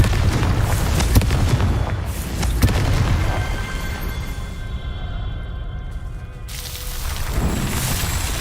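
In the video game Hogwarts Legacy, a Confringo blasting spell goes off with deep booming explosive bursts and rumbling low impacts, followed by a lingering tonal ring and fading debris.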